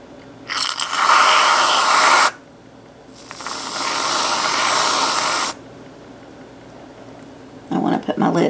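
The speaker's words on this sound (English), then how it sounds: "top it with some whipped topping" Whipped topping sprays from a can onto a cup of coffee in two long, loud hissing bursts with a short pause between them, followed by a brief rustle.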